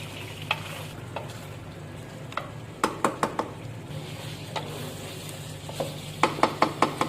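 Chicken being bhuna-fried in a pot sizzles steadily, and sharp spoon-on-metal scrapes and clinks come in bursts, with a quick run of strikes near the end. No one speaks over the close cooking noise.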